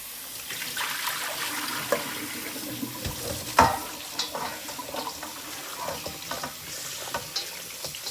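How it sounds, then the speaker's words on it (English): Tap water runs steadily into a sink while meat is rinsed with citrus for a Jamaican stew peas dish, with soft splashing and small clunks of handling close by. "just wash off that real quick."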